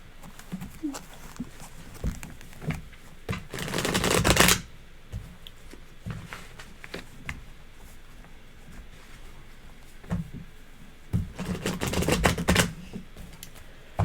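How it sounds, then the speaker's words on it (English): Tarot cards are shuffled in two distinct riffling bursts, close and crisp, separated by quieter handling sounds and soft taps. "One more shuffle from me, Mr. O."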